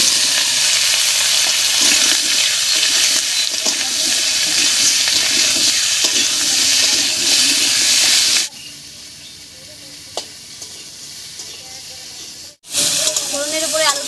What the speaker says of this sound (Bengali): ফোড়নের উপরে আলুটা দিয়ে একটু নাড়িয়ে নিয়েছি।